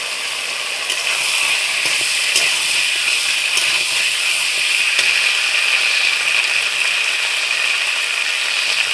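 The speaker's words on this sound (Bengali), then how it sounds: "এবার ওই কাঁঠালের এঁচড়গুলো দিচ্ছি" Green jackfruit pieces hit hot, oil-released masala in a Bengali kitchen pan, giving a steady, loud crackling sizzle with a few sharp clicks and scrapes throughout.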